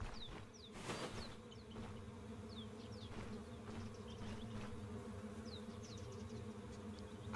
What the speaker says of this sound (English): Bees. I hear bees